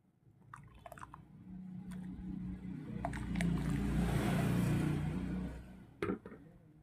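Washed rice tipped into boiling milk for payesh, a soft wet swelling rush of pouring and bubbling that builds and then settles, with a few small clinks near the end, no speech.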